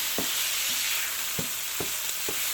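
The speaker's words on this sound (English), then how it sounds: "My garlic. I'm just gonna let this cook for another minute." Garlic frying in a pan for red beans and rice, a steady bright sizzle with a few soft spoon strokes stirring at irregular intervals, close and alone.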